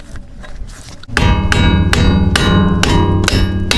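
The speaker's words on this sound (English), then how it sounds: "give it a little bit of a tap, not too much of a tap" A small hammer raps a bolt into the A-arm of a CFORCE 500 ATV, striking seven or eight sharp, evenly spaced metallic taps up close after a quieter opening.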